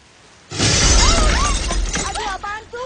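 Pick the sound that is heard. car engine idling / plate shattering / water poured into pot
plate shattering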